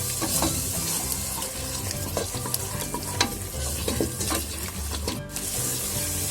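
Thick curd stirred into sautéed spices in a pan for kambu (pearl millet) biryani, giving steady close sizzling with repeated scraping stir strokes and no voices.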